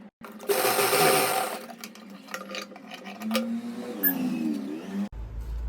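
A sewing machine stitches the corner of a shirt collar in a loud, close, rapid whirring run of about one and a half seconds. Shorter bursts and handling noises follow, then a clunk at the end.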